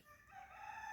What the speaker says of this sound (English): one of our new roosters has finally found his voice. Um, so that was him crowing.